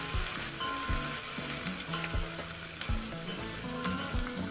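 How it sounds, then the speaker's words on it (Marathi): Ginger-garlic paste fries in a pan for a drumstick amti, a loud continuous sizzle with regular scraping strokes of a spoon stirring it, close and without speech. "आलं लसणाची पेस्ट टाकली"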